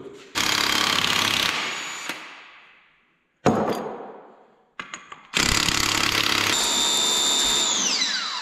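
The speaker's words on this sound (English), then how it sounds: "Now we're going to have to unbolt the axle out of this too." Power tool loosening axle bolts on a heavy-duty Bobcat loader in a shop: loud, harsh rattling bursts in several runs with brief gaps, the last ending in a rising whine, with no talk.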